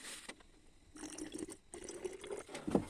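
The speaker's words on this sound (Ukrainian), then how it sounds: "спробую одразу розвести його дистильованою водою" Distilled water is poured into a hot, boiling copper sulfate solution, making a faint, quiet trickle that comes and goes in short bursts, with a small splash near the end.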